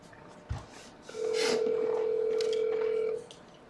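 A phone dials a number with DTMF tones: a small tap, then one steady tone held for about two seconds, close and clear, amid faint room noise and no speech.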